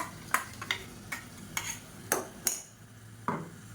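Blended tomato stirred into masala in a pan for Tamil kulambu, giving a series of sharp, evenly spaced spoon scrapes against the pan, close and clear over a faint sizzle, with no talking.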